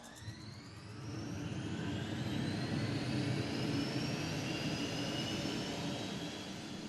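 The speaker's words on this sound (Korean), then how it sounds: "출고 전에 거치는 최종 엔진 테스트" A T-50 supersonic jet's engine runs up in a final ground test, a loud broadband roar with a rising high-pitched turbine whine that climbs and holds steady throughout.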